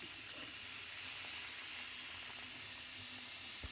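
Chicken curry with potatoes, black pepper powder and a little chili powder fries in a pan, giving a steady, soft, even hiss of steam and sizzle that runs unbroken, with no voices.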